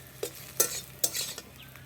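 Homemade paneer frying with turmeric in a pan: a few quiet spatula scrapes and stirring strokes over a faint, low sizzle.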